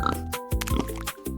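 A cartoon pig oinks in a run of bouncy, repeated grunts over a cheerful children's-show music bed, loud and close.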